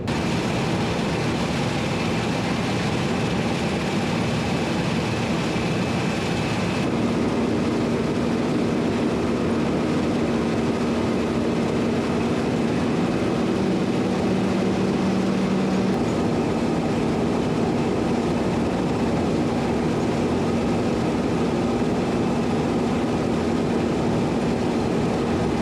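Old combine harvester running during a milo harvest on the farm, a steady loud mechanical rumble and hum that stays constant throughout with no talking.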